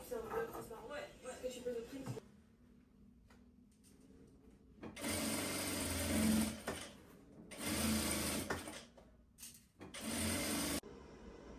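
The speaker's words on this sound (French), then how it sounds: "Je viens tout juste de finir de coudre les trousses de toilette" A sewing machine stitches toiletry bag linings in a workshop in several loud, steady bursts of rapid mechanical whirring separated by pauses, with talking and quieter sounds in between.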